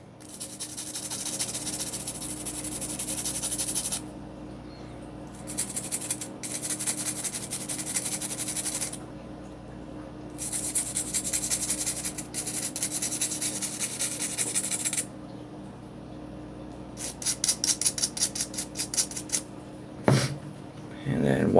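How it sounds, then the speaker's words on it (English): Aerosol cleaner is sprayed onto the spring base of a Glock 19X magazine and scrubbed, giving long hissing spray bursts alternating with rasping brushing strokes, loud and close with steady background hum. "Same thing, just give it a good spray."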